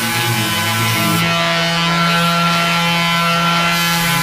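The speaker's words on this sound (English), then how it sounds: "All right, the sanding party is going on." Sanding a sailboat hull during a refit, a continuous loud abrasive whir with steady tonal hum, uninterrupted throughout and close by.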